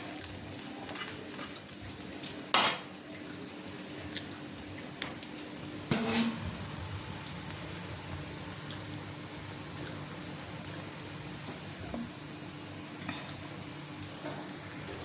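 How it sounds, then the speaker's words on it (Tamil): Rice flour and drumstick leaf fritters frying in a pan make a quiet, continuous sizzle with occasional sharp pops and stirring clicks, steady and close over about fifteen seconds, with no talking. "நல்லா இன்னும் ஃப்ரை ஆனோன்னு காட்டுறேன் பாருங்கள்"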